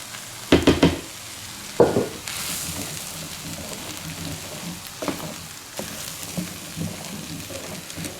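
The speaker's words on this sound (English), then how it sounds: "Stir it all in." A spoon scrapes and knocks in a pot as heavy whipping cream and flour are stirred into a chicken pot pie mixture, with a few sharp clatters over a soft, steady simmering hiss.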